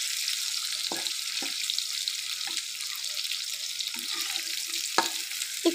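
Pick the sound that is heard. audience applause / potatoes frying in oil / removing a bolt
potatoes frying in oil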